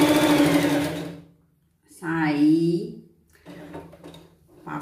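A sewing machine stitches a Cinderella-style pet costume dress in short close bursts, with a person talking between and around the runs.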